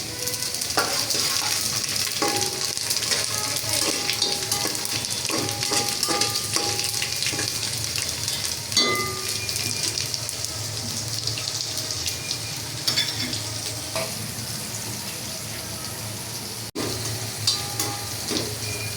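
Whole garam masala, bay leaves and panch phoron crackle and fry in oil for vegetarian bhuna khichuri, a loud, steady sizzling hiss with scattered stirring clicks and scrapes throughout, close up and without speech.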